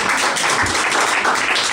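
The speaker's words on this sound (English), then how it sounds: "We clap because we like you." Studio audience clapping in a continuous, even burst of applause, close and fairly loud, with no talk over it.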